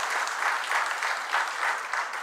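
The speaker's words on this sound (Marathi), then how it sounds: "जोरदार टाळ्या वाजवून आपण त्यांचं अभिनंदन करूया." An audience at a Marathi author and publisher event claps heartily in a steady, sustained burst of applause that carries through the whole moment.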